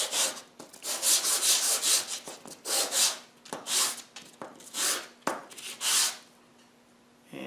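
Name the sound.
sanding wooden wedges with 220 grit sandpaper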